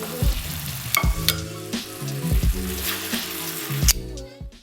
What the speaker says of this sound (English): As you continue to cook the ribs, pick them up and rotate them so they are evenly cooked on all sides.